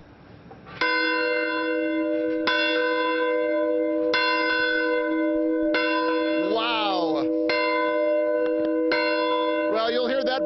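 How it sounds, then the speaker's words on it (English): A large bell rings out at a college football stadium before a season-opening game, struck about six times in a slow, steady rhythm with long ringing overtones, loud and close, while crowd noise and cheering rise between the strokes. "we can't have a big bell here without ringing the bell"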